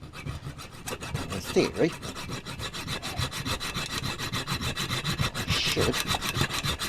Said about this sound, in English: I'll give that one last little hacksaw.